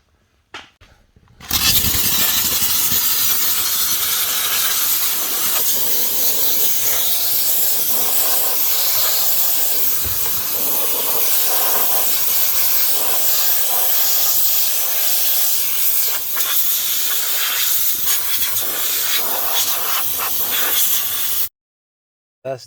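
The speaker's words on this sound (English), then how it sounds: "And then we go behind with the steamer." A steam cleaner hisses in one loud, steady, broadband rush for about twenty seconds while a car interior is detailed, starting abruptly and cutting off sharply near the end.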